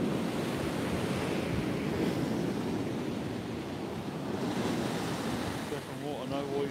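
Rough sea and strong wind of about 40 mph on Trimingham Beach, a constant loud roar of surf and gusting wind buffeting the microphone throughout, with no clear break in the noise.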